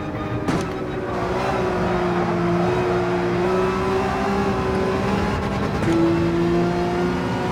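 A race car engine in Gran Turismo 7 at Monza holds a loud, sustained high rev with a steady droning tone that shifts pitch as gears change, close and constant throughout.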